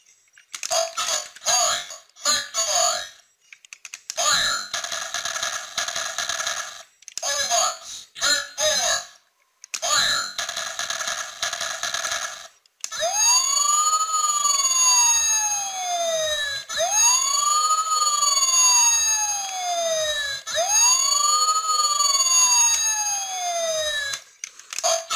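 Electronic sound effects from a Transformers Robots in Disguise Optimus Prime toy, first clipped choppy beeping bursts, then a loud sweeping wailing siren repeating in rising and falling cycles, close and piercing with no talking.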